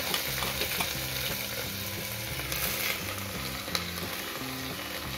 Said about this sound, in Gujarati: હવે આપણે જે કોબી છે તે સમારીને રાખેલી છે, કોબી નાખી દઈશું.